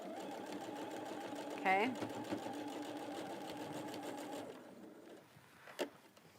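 A sewing machine stitches quilt blocks together in a steady, fast mechanical whir for several seconds, then stops, with a voice speaking briefly over it and a light click near the end.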